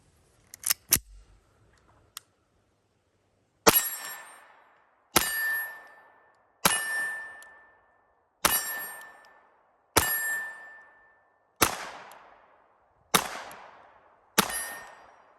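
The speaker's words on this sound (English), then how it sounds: "So let's try shooting it again and see if we get any malfunctions." A Czech Vz.50 pistol, freshly oiled, fires about nine evenly spaced shots, each a sharp, loud crack with a ringing metallic tail, preceded by a few quieter mechanical clicks of handling.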